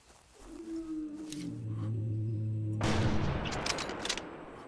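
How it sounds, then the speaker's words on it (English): A single heavy rifle shot rings out in the Prehistoric Hunt video game, Cretaceous update, aimed at a dinosaur, loud and close with a long booming decay, followed by a guttural animal roar. "I think that actually was a lethal shot right there"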